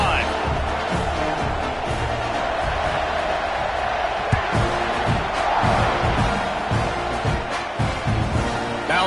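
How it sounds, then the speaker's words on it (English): An American football video game stadium crowd roars in a continuous, loud wash of cheering as the kickoff unit takes the field, with a commentator's voice talking over it. "this crowd is feeling themselves after that last drive"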